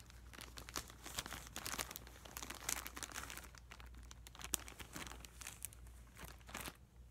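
A resealable plastic bag crinkles and crackles in close, quiet bursts, with irregular rustling handling that rises and falls and brief sharper crunches, heard alone at low volume.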